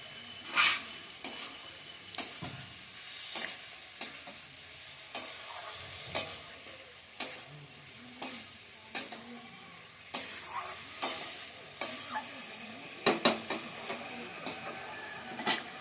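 Cauliflower pieces added to hot spiced oil in a pan for a fish and potato curry, a steady sizzle and frying hiss with repeated scraping stirs of a spoon, close by, with no talk.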